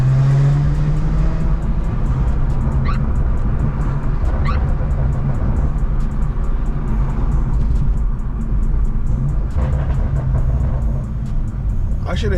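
A BMW M340i with a bad shaking problem drives through heavy traffic, its exhaust a steady low rumble close up, with a faint dog yip in the background.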